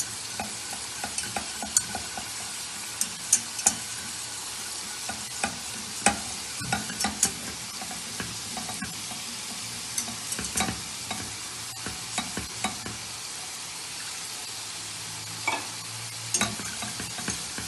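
Milk is stirred little by little into roasted flour in a pan for a white sauce, giving a continuous soft sizzle with frequent scraping and clicking strokes of the spoon, close and fairly quiet.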